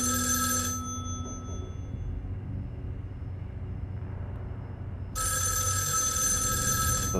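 In the horror video game Erica, a telephone rings in short bursts: one ring at the start, a low rumbling hush in between, then a second ring a few seconds later, close and clear.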